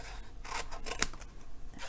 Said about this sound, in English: this little piece here is going to get totally cut away.